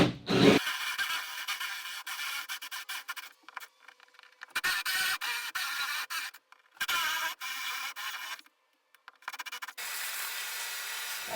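A 1-inch Forstner bit bores about half an inch into a teak mounting block for a boat's cockpit cleat, grinding in a series of intermittent close bursts separated by short silent pauses.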